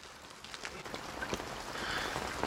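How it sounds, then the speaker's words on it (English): Rain falls in a soft, steady patter with scattered sharper drops, close and moderately loud for a few seconds, with no voices. "I love the sound of rain, man."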